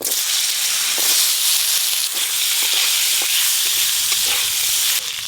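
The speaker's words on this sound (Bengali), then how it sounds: "প্রথমে আমি আলুগুলো একটু হালকা করে ভেজে নেব।" Potato pieces frying lightly in oil already used for frying shrimp, a steady loud hiss and sizzle with small crackles and pops throughout.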